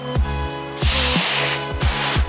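Spray paint hisses out in short repeated bursts onto a homemade surfboard, each blast loud and close with brief pauses between, the can's pulsing rattle falling into a quick uneven rhythm.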